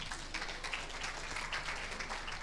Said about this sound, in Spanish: Un aplauso para Pitágoras.